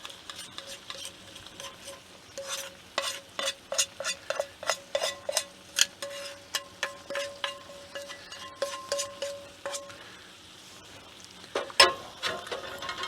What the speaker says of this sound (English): Give that a nice stir in there.